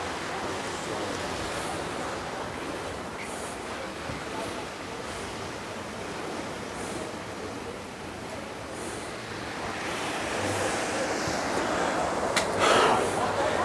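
Mediterranean Sea waves breaking along the shore at Jaffa in Israel, an ancient harbour city, make a continuous wash of surf with wind noise, rising slightly near the end, and no one speaking.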